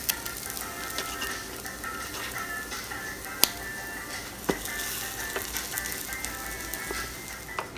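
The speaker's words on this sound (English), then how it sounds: "now it's time to start turning the French toast over" French toast sizzles and fries in a hot pan with a steady close hiss. Occasional small pops and clicks rise above it.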